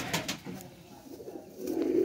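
Pigeons coo softly nearby, a few low rolling calls over faint rustling, with a louder sustained coo toward the end.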